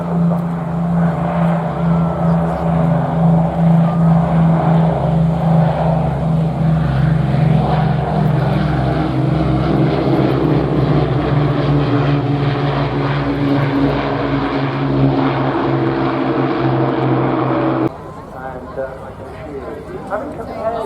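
An Avro Lancaster taxis down the runway at the Lincolnshire Aviation Heritage Museum, its piston propeller engines droning loud and continuous for about eighteen seconds before the sound drops abruptly lower.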